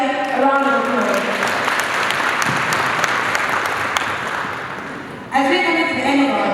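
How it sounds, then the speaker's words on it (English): Audience applause for the women panelists at a women in agribusiness session, a loud, steady wash of clapping for about five seconds that cuts off abruptly, followed by a voice speaking. "Can we give the women here a round of applause?"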